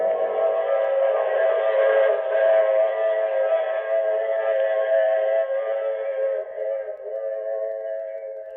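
Train whistle sounding long and steady over the running train in a radio drama sound effect, a sustained chord-like tone that fades slightly toward the end.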